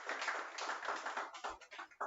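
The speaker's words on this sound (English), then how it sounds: "give Ethan a round of applause." A live audience with a full house claps briefly for a guest, a short burst of choppy hand claps.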